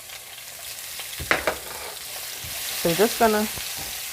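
Onions and vegetables sauté in a pan, a steady low sizzle running underneath, with a person talking briefly over it midway.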